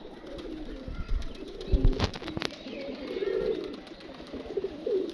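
A pigeon coos in low, rolling phrases, with a few sharp knocks and rustles near the start and repeated cooing swells afterward.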